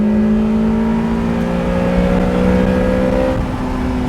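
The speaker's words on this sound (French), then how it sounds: "Ah, le bruit du moteur." A Toyota MR2 MK1 engine held at high revs around 5,000 rpm gives a loud, steady droning hum with layered tones, heard close from inside the cockpit.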